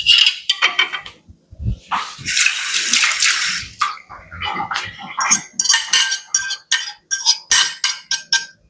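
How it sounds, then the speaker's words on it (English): Utensil scooping cooked onions out of a pan on the side while making brunch, with close metallic scrapes, clinks and short rattling bursts coming in irregular clusters and no talking. "I was on the side just scooping those little onions out of there"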